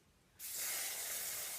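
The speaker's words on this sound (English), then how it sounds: "I put this Utan and Tone Spray and Glow." A can of Utan and Tone Spray and Glow self-tanning spray releases a close, continuous airy hiss that starts abruptly after a short quiet moment and holds steady to the end.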